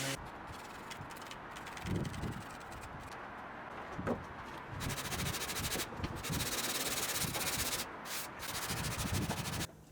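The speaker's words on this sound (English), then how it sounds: "And then I tried to sand it flat." A hollow-body PRS-style guitar kit body is sanded flat by hand, giving steady rough scratchy rubbing strokes that come in uneven bursts and hold up close and fairly loud throughout.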